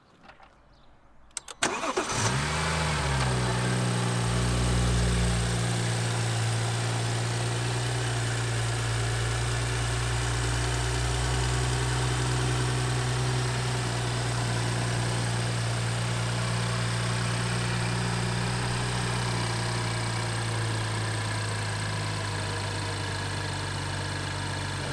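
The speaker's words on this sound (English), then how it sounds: "As you can see and hear, engine runs smoothly." A 2016 BMW M235i with a Stage 2 tune, noted as flood-damaged, starts up after a few clicks and settles into a steady, smooth idle that hums on evenly for the rest of the clip.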